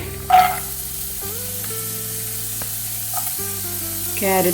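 Carrots tossed into a hot pan for chicken pasta set off a quick sizzling burst, then a softer steady fry continues under background music with tonal notes.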